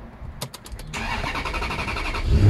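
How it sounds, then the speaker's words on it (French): Maserati Quattroporte sedan with its Ferrari-built engine cranking over a few quick ticks, then catching and settling into a steady, fairly loud idle close by. "maintenant je vais vous la démarrer pour vous faire écouter le bruit"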